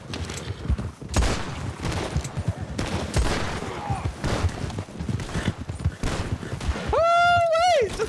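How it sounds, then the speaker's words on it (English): Rapid gunfire trades back and forth in a Red Dead RedM Western roleplay game, with bursts of shots and a few heavy booms, then a whistling rising tone near the end, and no speech over it. "Only reason I'm shooting at them is because they're shooting at me."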